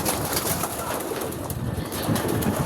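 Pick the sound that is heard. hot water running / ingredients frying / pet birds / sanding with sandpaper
pet birds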